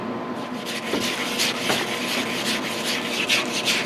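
Small brushes scrub surface rust off an old Brown & Sharpe dividing head, making a steady, close, gritty rubbing and scratching with no pauses and no talk.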